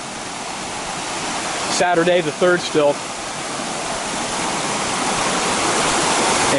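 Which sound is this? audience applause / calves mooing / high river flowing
high river flowing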